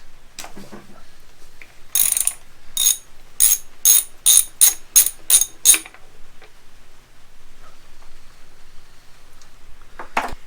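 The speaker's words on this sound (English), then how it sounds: "take off the crankshaft hole cap so that I can actually turn the crank over and see the timing marks" A ratchet clicks in a rapid run of about ten sharp, close strokes while removing the crankshaft hole cap on a Honda CBR900RR Fireblade, followed by quieter handling sounds and a final click.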